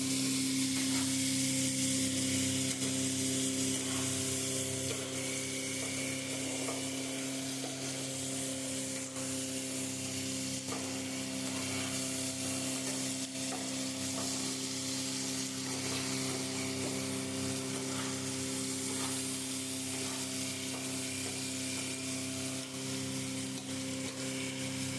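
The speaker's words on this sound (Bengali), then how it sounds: "পেঁয়াজটাকে ভাজতে দিয়ে দিয়েছে, জিরি জিরি করে একদম কেটে নিয়েছে পেঁয়াজটা" Finely chopped onions fry in a pan while being browned for a katla fish curry, giving a steady, even sizzle that runs throughout with a constant low hum beneath and no talking.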